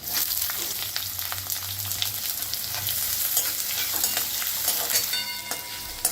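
Chopped onion and garlic sautéing in a pan with black cumin seeds, stirred while they fry: a close, continuous sizzle with soft scraping and occasional crackles, no speech.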